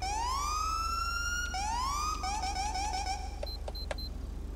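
A police siren in the video game LSPDFR wails upward, switches to rapid yelps, then ends with a few short electronic beeps, loud and clean with a steady low hum underneath.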